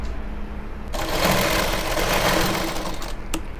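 Sewing machine stitching a pant seam, a close, loud, steady whirring run of rapid needle strokes lasting a couple of seconds, starting and stopping abruptly.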